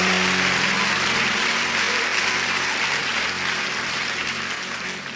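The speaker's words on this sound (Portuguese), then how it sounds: "Pode aplaudir a Jesus por isso," Sustained applause from a church congregation fills the space, steady and dense throughout, with a low musical tone lingering faintly underneath at the start.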